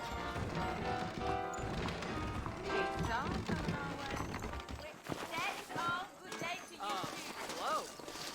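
Horse hooves clip-clop in the video game Red Dead Redemption, a steady rhythmic trot under in-game music and characters talking, fairly faint.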